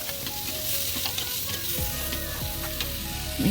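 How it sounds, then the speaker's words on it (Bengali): Spices hit hot oil in a pan with a loud, even sizzle and some faint stirring clatter, close up and steady throughout, with no talking. "এদিকে যে তেল গরম হয়ে গেছে, এর মধ্যে এই মশলাগুলো দিয়ে দেবো।"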